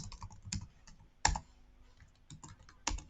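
Someone types a short phrase on a computer keyboard, with sparse, uneven key clicks close by, a few sharper taps standing out, and no talking.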